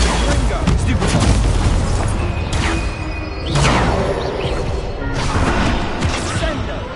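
Confringo explosion spell in Hogwarts Legacy: several loud, booming blasts with crashing debris, each swelling and trailing off, one after another over a continuous rumble.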